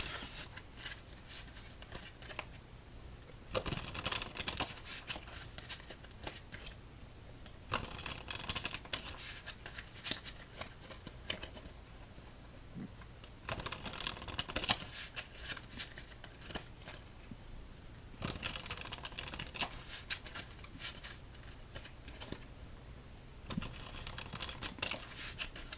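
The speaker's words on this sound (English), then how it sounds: "Let's give this deck 8 shuffles and begin" Repeated riffle shuffles of a deck of playing cards, each a crisp fluttering burst of a few seconds, separated by brief pauses, close up and fairly quiet.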